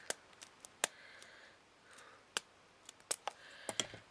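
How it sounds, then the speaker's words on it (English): Sharp, isolated snips and clicks at irregular intervals, close and crisp against a quiet background, as jewellery wire is cut with scissors. "Yeah, you can do them with scissors."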